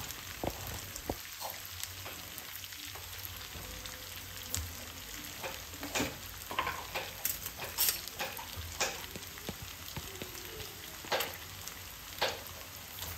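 Ginger garlic paste fries with softened onions in a pan for prawn masala curry, a soft, continuous sizzle with light stirring scrapes throughout.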